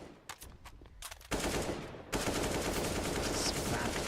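Spam fire through walls in CS:GO on the Inferno map, scattered single shots at first, then heavy continuous automatic gunfire, loud and close.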